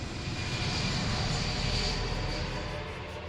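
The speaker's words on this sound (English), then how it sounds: "a chartered passenger flight from Mombasa to Israel takes off carrying 200 holidaymakers heading home" A chartered passenger jet leaving Mombasa roars steadily as it takes off, a loud, sustained broadband engine rush with a hissing upper edge, close and continuous without any speech.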